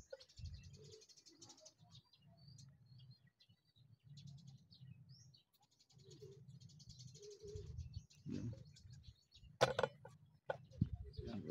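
Racing pigeons circling during a derby in Bauang and Agoo, La Union: faint bird chirps and coos over a steady low rumble of outdoor background noise, with occasional knocks and a sharp bang near the end.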